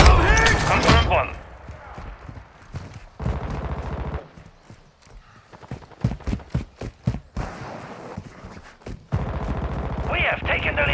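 Rapid gunfire bursts from Call of Duty: Modern Warfare multiplayer, sharp shots and fusillades scattered irregularly across the clip, mixed with loud game effects at the start and end.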